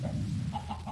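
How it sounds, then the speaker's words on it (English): A chicken clucks in the Horsecraft video game, brief soft clucks over a steady background with no talking. "Did you kill the chicken, Mr. Tiger?"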